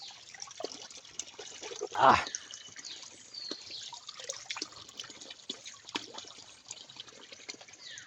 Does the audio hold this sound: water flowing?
yes